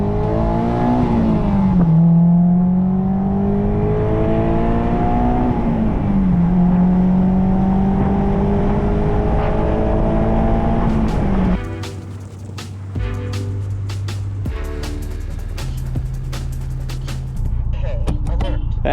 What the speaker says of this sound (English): why would I not drive in the desert with the top down on my car right now?